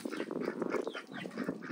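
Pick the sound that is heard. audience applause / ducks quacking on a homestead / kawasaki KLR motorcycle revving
ducks quacking on a homestead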